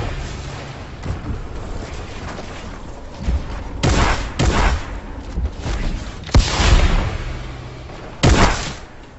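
Shotgun blasts and a grenade explosion in a futuristic Season 9 Fortnite match, with several loud booming bursts standing out over steady game ambience and scattered shots.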